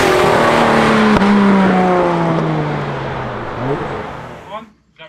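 A 600 bhp rear-wheel-drive MG Metro 6R4 with a Ford Duratec 3.0 V6 turbo, driving on the road. The loud engine drone falls steadily in pitch as it eases off, then blips briefly before fading out.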